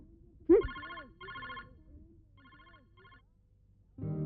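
A telephone rings in several short electronic bursts, loud and close, with a brief mumble of voice at the start and a louder noise at the end.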